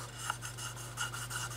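Sanding a plastic part from an Italeri German motorcycle and sidecar model kit, a steady close rasping rub repeated in short strokes with no voices.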